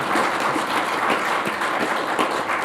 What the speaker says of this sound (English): give both of them a very warm thank you, applause.